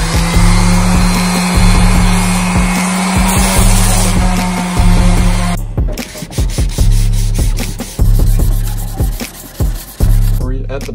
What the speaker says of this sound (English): just start sanding it off, cleaning it up a little bit